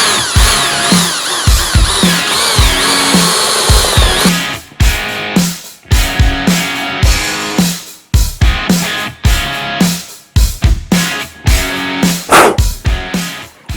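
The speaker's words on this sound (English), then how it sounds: "Somewhere about there is where we want to drill the hole saw through." A power drill with a hole saw grinds steadily and loudly, then stutters in repeated short bursts as the cutter bites through a Suzuki Samurai's steel body; no talking.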